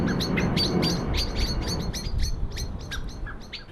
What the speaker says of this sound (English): As the parents make their warning calls, the young keep frozen to the spot.